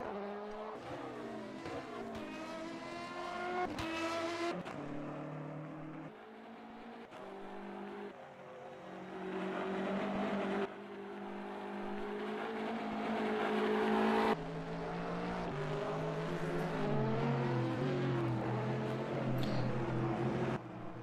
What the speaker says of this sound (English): 720S. It's on track right now.